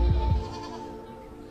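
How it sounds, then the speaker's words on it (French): Goats used for eco-grazing bleat twice in quick succession up close, two short loud calls followed by a fading low background hum. "Et on utilise même des chèvres pour faire de l'éco-pâturage"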